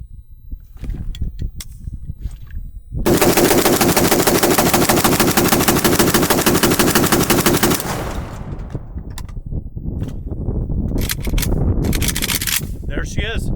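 An AK rifle with a 30-round magazine fires Tula .223 ammunition in one long, loud, rapid burst of close shots, followed by scattered bangs and rattling.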